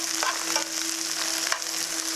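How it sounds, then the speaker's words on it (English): Brussels sprouts fry and crisp in a hot pan, giving a soft, steady sizzle with light stirring and scraping, close and faint, with no voices. "So the Brussels sprouts are cooking."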